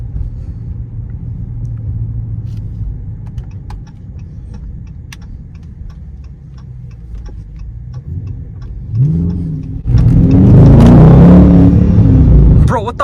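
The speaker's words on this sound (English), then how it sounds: "what the fuck was that noise? It sounded like a Hellcat." A car engine revs loudly and close by in a sudden burst near the end, a deep rumbling roar likened to a Dodge Challenger Hellcat, following a quieter stretch of low engine drone inside a moving car.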